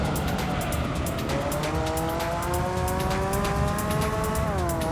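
A race car in Gran Turismo 3 roars continuously at high revs, its engine pitch climbing and shifting through gears with faint tire squeal, loud and sustained throughout.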